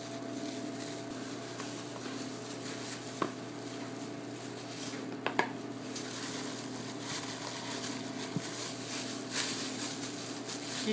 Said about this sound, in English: I'm going to be using a little bit of olive oil in my skillet